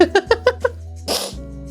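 A quick series of short rising vocal bursts builds up to a single breathy sneeze, close and fairly loud.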